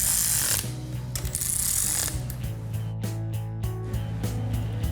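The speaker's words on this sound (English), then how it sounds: "We'll just run these down a little bit with the wrench." A ratchet wrench run down head bolts on a 426 Hemi or 440 wedge engine head clicks in quick mechanical bursts, close and loud, with metallic ticks and a steady low background hum.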